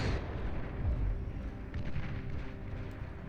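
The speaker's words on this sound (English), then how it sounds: "Persecutor cannon, though, definitely causing a little bit of a stir-up" A Persecutor cannon fires in the Beyond All Reason strategy game, a single deep booming blast near the start that rolls off into a rumbling decay amid distant battle noise.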